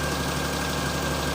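A Perodua Kelisa engine idles just after starting, a steady, close, even hum with a constant pitch and no talk, lasting only a moment.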